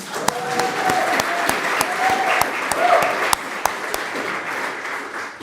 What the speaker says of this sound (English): Please clap for yourselves as well.